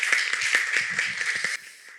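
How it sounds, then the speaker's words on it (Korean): Audience applause at a Korean faith talk event honoring a speaker, a dense patter of hand claps for about a second and a half before quickly thinning to a faint tail. "선생님 얘기 박수로 좀 일단"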